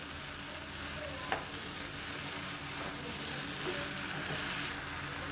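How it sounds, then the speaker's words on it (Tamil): Sliced mushrooms sauté in a pan with a soft, steady sizzle and an occasional light clink of stirring, quiet and close. "மஷ்ரூம்லேருந்து தண்ணி வரும், அந்த தண்ணி வர்ற வரைக்கும் நல்லா வதக்கி விட்டுக்கணும்."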